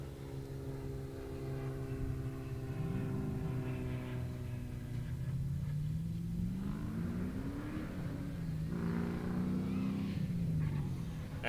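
A drag race car at Raceway Park's E-Town Gambler event launches off the line, its engine droning loudly and then climbing in pitch as it pulls away, with no talk over it.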